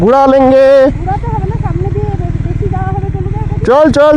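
A motorcycle rolling in first gear without the clutch on a rainy mountain road near Gangtok, a steady low engine thrum with rapid pulsing beats under loud talk that starts and ends the stretch.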